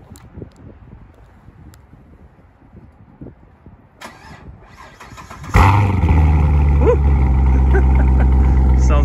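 A 2016 Chevy Corvette Z51 2LT fires up by remote start after a quiet stretch with outdoor background noise, bursting into a loud, deep, steady idle rumble close by.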